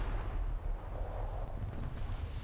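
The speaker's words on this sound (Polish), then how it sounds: "Nie, bo to lecą pociski, lecą" Artillery shells in War Thunder fly overhead as a dense, continuous low rumble of distant heavy fire, steady and loud throughout with no distinct separate blasts.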